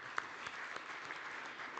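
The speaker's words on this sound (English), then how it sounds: "they all deserve a clap" A crowd applauding steadily, a dense wash of many hands clapping, heard at a moderate distance and fairly quiet.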